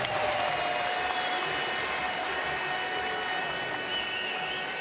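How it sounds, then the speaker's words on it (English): A boxing crowd at a championship fight applauds after a 10-round bout, a steady broad wash of clapping and crowd noise that holds for about five seconds. "how about a great round of applause for these two great warriors who delivered an incredible 10-round slugfest"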